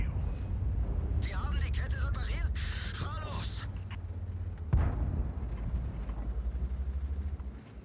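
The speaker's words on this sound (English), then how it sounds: "I'm just gonna get blasted by artillery." An artillery shell explodes in the tank game World of Tanks, a single deep, heavy blast rising out of a constant low engine rumble while someone talks over much of it.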